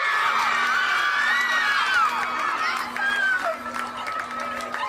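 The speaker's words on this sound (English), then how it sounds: "Each and every child who's sitting here deserve a huge round of applause." Children and adults at a school annual sports meet cheer, whoop and applaud together after the prize events, a steady, fairly distant crowd roar with high children's shouts running throughout.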